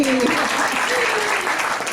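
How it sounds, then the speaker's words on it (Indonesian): An audience applauds steadily in a seminar hall, a dense wash of clapping throughout, with a voice talking over the start. "Hore, tepuk tangan lagi."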